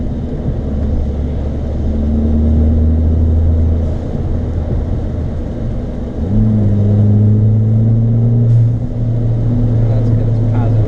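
Inside a Ford Fiesta ST running an E30 ethanol blend, the engine drones loudly as it accelerates, then dips and climbs again after an upshift, holding a steady humming rumble throughout.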